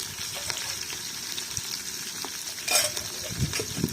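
Green chillies sauté in hot oil for quail biryani, a steady close sizzle broken by a few scraping stirs of the spoon against the pan.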